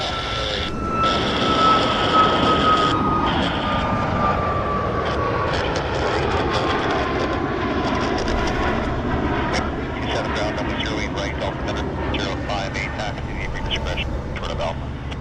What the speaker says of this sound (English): There's an aircraft taxiing out for departure.